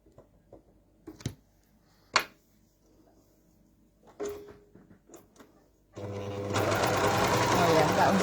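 An overlocker sewing machine stitches, first in a few short taps and bursts, then settling into a loud, steady, fast mechanical whirr that runs close and continuous to the end.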